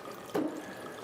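Stoney Creek whiskey poured into a glass for a Smoky Mountain cocktail at a fine dining restaurant, a single short, quiet liquid splash close by.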